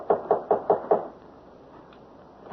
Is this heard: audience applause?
no